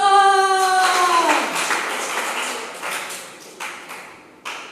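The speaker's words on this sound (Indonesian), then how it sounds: "Tepuk tangan." Clapping from a church audience during a talk, a scattered burst of hand claps that follows a sustained tone and tapers into a few isolated late claps.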